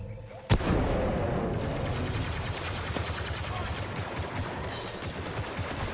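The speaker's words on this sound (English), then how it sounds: "This guy's just firing randomly." Gunfire in a Star Wars Battlefront II Ewok Hunt match opens with one sharp shot, then a dense, sustained crackle of shooting and explosions, with someone talking over it.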